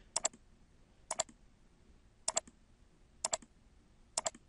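A computer mouse clicks in close, crisp double clicks, five pairs spaced about a second apart against a quiet room background.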